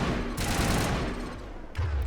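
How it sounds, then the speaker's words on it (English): Shotgun fire from the Mass Effect video game, with dense overlapping gunfire and blasts filling the scene, loud and continuous, with a heavier thump near the end. "So you're using your shotgun"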